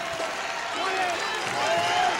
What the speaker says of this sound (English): This crowd way appreciative. They give them a standing O.